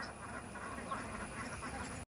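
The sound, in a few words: flock of ducks quacking in a village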